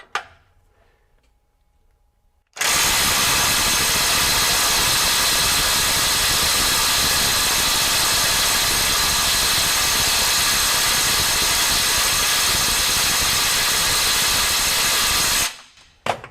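RIDGID SubCompact 3/8-inch drive impact wrench run at 450 foot-pounds, one long continuous loud hammering burst of about thirteen seconds starting and stopping abruptly, close up with no talk.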